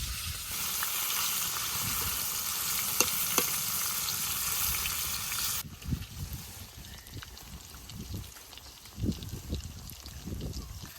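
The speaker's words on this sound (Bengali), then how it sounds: "মাছ ভাজি আস্তে আস্তে হইলে ভাল লাগবো" Fish sizzles and spatters steadily in hot oil in a village kitchen, a loud continuous hiss that softens midway into quieter crackling with occasional stirring scrapes.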